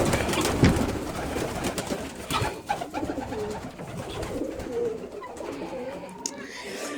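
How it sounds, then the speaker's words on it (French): Pigeons in a breeding loft cooing repeatedly in soft, throaty rolls, several birds close by, with wing flaps and rustling through the loft. "on va aller chez les pigeons"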